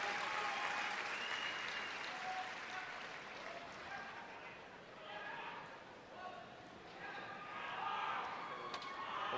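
Supportive, happy crowd at the 2015 World Men's Curling Championship applauding Team Canada skip Pat Simmons, steady dense applause filling the arena with cheers rising and falling, and a commentator talking over it.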